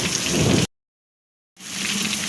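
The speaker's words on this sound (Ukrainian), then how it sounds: "Ось дивіться. Просто град." Hail pours down during a thunderstorm, a dense hard rattling hiss, loud and close. It cuts out abruptly to near silence for about a second, then resumes just as thick.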